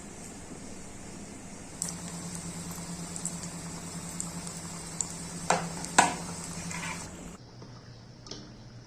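Nimki pastries fry in hot oil with a steady bubbling sizzle, sharp clinks and scrapes break in partway through, and the frying drops to a quieter hiss near the end.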